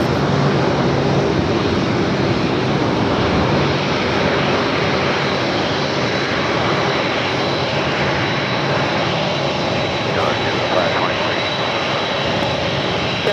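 An ANA airliner takes off from the north side of Los Angeles LAX, its jet engines making a loud, steady roar that fills the whole stretch without a break.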